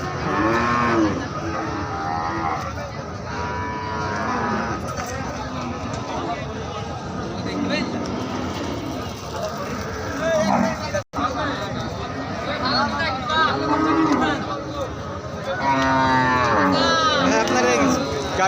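Cows of local, Sahiwal and Brahman breeds moo repeatedly at the Bamondi cattle market, with many overlapping voices chattering throughout and calls rising and falling close by.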